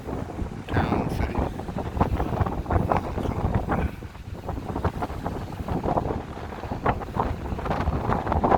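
Strong wind buffets the microphone at Beluga Point, Alaska, a steady loud roar and rumble that gusts throughout with no one talking.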